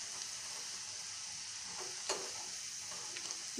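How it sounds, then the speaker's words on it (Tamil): Bitter gourd chips fry in a small amount of oil, added a few at a time, with a steady, quiet sizzle and hiss. Occasional faint pops and crackles break through; no one talks. "இந்த மாதிரி ஃப்ரை பண்ணி எடுத்துக்கணும்."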